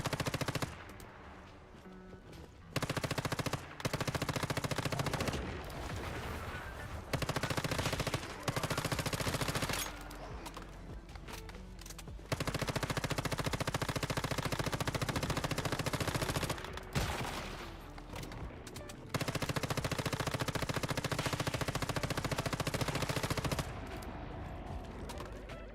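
Rapid video-game machine-gun fire from a weapon rated at 1,000 rounds per minute and boosted further. Long, loud, continuous bursts are separated by short pauses, with other game sounds faintly underneath.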